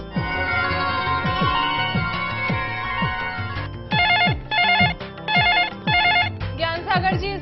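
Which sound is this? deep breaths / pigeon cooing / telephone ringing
telephone ringing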